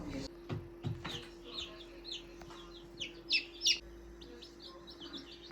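Soft, high peeping chirps from young chicks, scattered and repeated at close range, with faint clucking and a low background hum.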